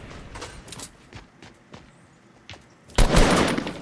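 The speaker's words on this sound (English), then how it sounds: "can you stop shooting at me?" Rapid bursts of video game gunfire in a PS4 squad match, a run of sharp shots early on followed by a loud sustained volley near the end, with no talk over it.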